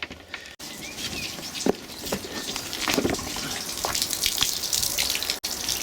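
Hot water runs from a tap inside a VW Autosleeper Clubman GL camper van, a close, continuous splashing gush with small knocks and patters throughout.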